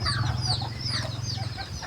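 Small decoy rooster clucking and calling close by in a steady run of short fowl sounds, with no voices present.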